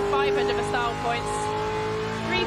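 A car at the Goodwood Festival of Speed revs hard and squeals its tyres in a loud, close burst of rising and falling engine tones, with a crowd and voices audible underneath.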